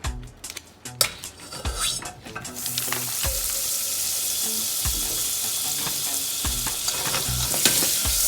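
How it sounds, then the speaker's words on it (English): Butter sizzles steadily in a hot pan, a dense continuous frying hiss that rises and settles in after a few sharp clinks and scrapes of a utensil against the pan. "I'm gonna get a little bit of butter and put some butter in the pan."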